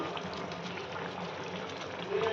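Curry boiling in a pot on the stove, a quiet, steady bubbling simmer that stays soft and even throughout.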